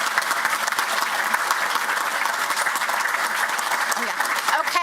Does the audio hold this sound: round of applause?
yes